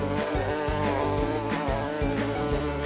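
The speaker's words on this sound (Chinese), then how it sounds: "小蜜蜂急急忙忙的要去采蜜哦。" A bee buzzing, a continuous close droning hum with a pulsing, wavering pitch and no talk.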